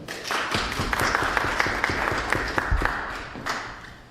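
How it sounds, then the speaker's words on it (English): Warm audience applause at a talk on poor voter turnout greets a speaker, a fairly close, mid-sized room of clapping with distinct individual claps, rising quickly and fading out after about four seconds. "can we please have a warm applause for Dr."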